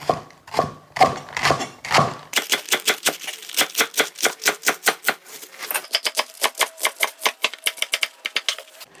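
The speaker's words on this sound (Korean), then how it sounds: "이거를 빨리 해야 되니까 좀 잘게 썰게요" A knife chops napa cabbage quickly and rhythmically on a cutting board, dozens of crisp, evenly spaced taps close by with no talking.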